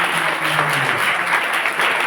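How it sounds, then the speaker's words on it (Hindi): Audience applause at a Hindi Christian church service, a dense, steady wash of many hands clapping for the Lord, loud and close throughout. "ताली बजाकर प्रभु"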